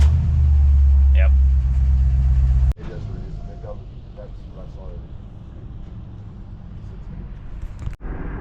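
1954 Chevy COE truck engine warming up with its correct carburetor fitted, a loud close running drone that cuts off sharply after a few seconds, followed by quieter background sounds with a brief thump near the end.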